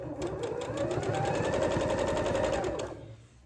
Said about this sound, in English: So once I finish stitching these sections, I'll give them a good press.